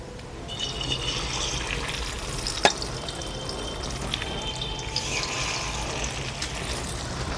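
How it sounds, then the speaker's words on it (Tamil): Marinated fish goes into hot oil over a village wood fire for a fish curry, producing a steady, close, even hiss with one sharp click partway through and no voices. "நம்ம இப்போ இதை மீனை வந்து எண்ணெயில் போட போகிறோம்"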